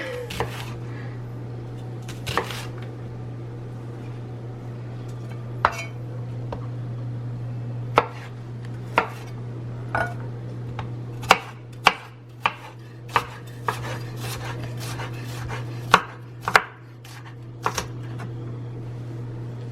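A knife chops through onion halves on a cutting board with irregular, sharp board strikes spread across the clip. A steady low hum runs underneath, with faint speech in the background.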